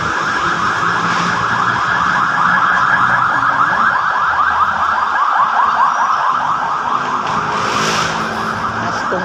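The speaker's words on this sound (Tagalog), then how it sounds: "may na-ambulansya, mayroon ng may sakit" An ambulance siren wails loudly and continuously in a fast, repeating up-and-down cycle, close by and holding steady throughout, with no voices over it.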